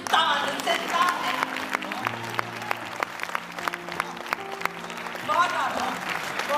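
An audience at a Hindi poetry recital applauds steadily, with sustained clapping throughout while a voice speaks over it.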